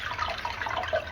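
Water drains steadily out of a cut pipe on a marine water tank, a soft continuous gurgling trickle without voices.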